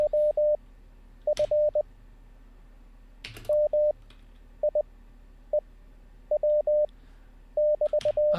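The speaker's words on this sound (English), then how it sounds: "Because we're learning Morse code anyway" Short steady beeping tones sound in quick groups of dots and dashes with gaps between, Morse code practice from a learning interface, clear and close with a few faint clicks and no talk.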